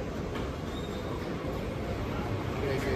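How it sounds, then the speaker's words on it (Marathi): A crowded train rolls in with a steady heavy rumble and faint wheel squeal, heard from close on the platform while people talk nearby. "ट्रेन आले, गर्दी भरपूर आहे."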